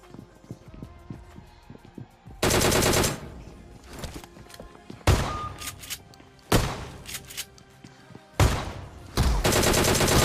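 Automatic rifle fire in PUBG Mobile on the new Pochinki map, several loud bursts of rapid shots separated by quieter gaps of game ambience and scattered clicks.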